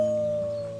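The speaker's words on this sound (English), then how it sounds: "Let's start with our team howl." Video game characters in Life Is Strange 2 join in a team wolf howl, a single sustained, steady howling tone held for under a second, loud and close, fading slightly at the end.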